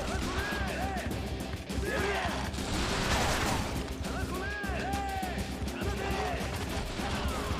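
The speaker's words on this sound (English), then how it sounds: "we get to another bit with cannon and gunfire" Cannon blasts and gunfire in the video game Yakuza Ishin, repeated booming impacts and crackling shots, with whistling streaks between them, loud and dense over game music, with voices speaking.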